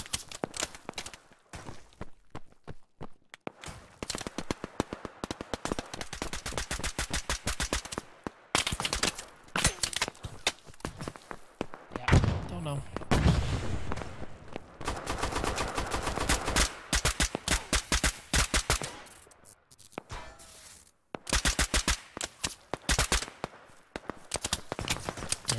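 Gunfire in the shooter game Operation Harsh Doorstop: rapid, crackling bursts of automatic fire and single shots come in uneven volleys, some loud and close, others thinner, with brief quiet gaps between them.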